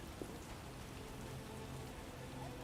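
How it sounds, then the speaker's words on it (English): Steady, dense rainfall pours down without pause, a continuous hiss of heavy rain with no voices, in the video game The Witcher: Enhanced Edition Director's Cut. "What a downpour!"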